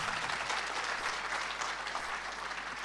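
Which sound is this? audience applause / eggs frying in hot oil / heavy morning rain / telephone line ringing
audience applause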